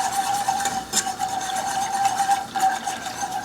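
A wire whisk beats sauce in a container, giving a quick rhythmic rubbing and scraping rattle, close and fairly loud, with a faint steady tone beneath and no talking.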